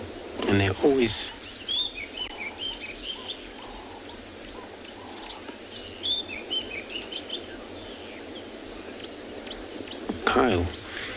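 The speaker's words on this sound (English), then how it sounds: "it is such a lovely sound. The bird that is calling" A small bird calling on a sunrise safari, brief high chirps and whistled phrases repeating at intervals over a soft ambient background, with a person talking at the start and end.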